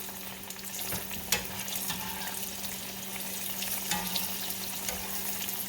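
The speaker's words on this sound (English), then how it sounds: "when y'all fry food or whatever you're fixing on your stove" Zucchini fries in a skillet on a home stove with a dense, constant sizzle and crackle, close by, with a couple of louder spits and pops, and no voices.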